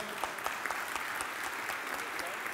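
A church congregation applauding steadily, a dense patter of many hands clapping throughout the short stretch.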